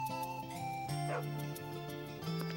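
A dog in the role-playing game Wild Arms 3 gives a few short, faint whimpering yips over steady background game music.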